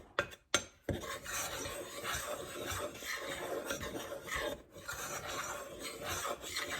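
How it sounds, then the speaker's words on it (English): Flour, cinnamon and baking soda being stirred together in a bowl for oatmeal raisin cookie dough, a steady close scraping and rasping of a utensil against the bowl, with a few sharper knocks at the start. "we're just going to mix that all up, the flour, the cinnamon, the baking soda"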